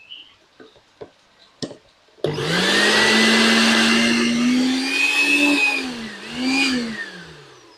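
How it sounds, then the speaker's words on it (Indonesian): A few light clicks and taps, then a turbo blender whirs up and runs steadily with a loud high whine after its turbine coupling is replaced, its pitch dipping slightly near the end. "Blender berjalan kembali dengan normal."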